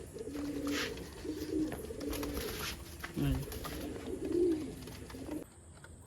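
Several pigeons coo softly and repeatedly, low and throaty, with faint background noise and rustling.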